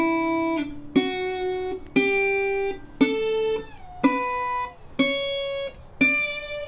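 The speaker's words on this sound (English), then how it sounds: "I have a slide in my hand and I'm going to play slide," Slide guitar in open D tuning walks up a major scale one note at a time, each pluck ringing with a gliding slide into pitch, roughly one note per second, close and clear with no voices.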